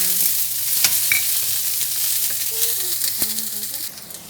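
Garlic and onion sizzle and crackle steadily in a hot pan for chicken afritada, a close, continuous frying hiss with small pops and occasional stirring clinks.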